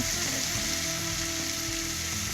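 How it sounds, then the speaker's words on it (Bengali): Onion, chili and tomato sautéing in a pan for a fish curry, a steady dense sizzle and crackle that continues without pause and sits close and fairly loud. "এইভাবে আমি পেঁয়াজ আর মরিচ আর টমেটোটাকে বেশ 3 থেকে 4 মিনিট একটু কষিয়ে নিয়েছি"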